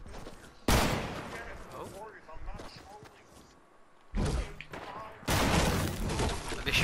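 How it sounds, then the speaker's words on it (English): Gunfire in a shooter video game: loud bursts of rapid shots break out in several volleys, with quieter stretches between them, while players talk throughout. "Are they shooting back at you?"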